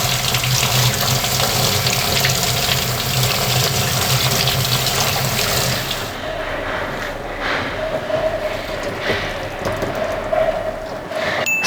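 Enoki mushrooms being rinsed under a running kitchen tap, a steady rushing splash of water that fills the first half, then drops to a softer, thinner trickle with faint handling noises.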